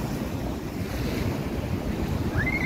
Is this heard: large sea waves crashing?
yes